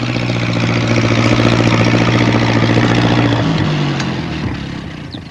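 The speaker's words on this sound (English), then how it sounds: "He's going to try to get through with his tractor." A small tractor engine chugs in a children's animated show, a loud rumbling idle with a steady low drone that shifts pitch partway through and then fades gradually as it pulls away.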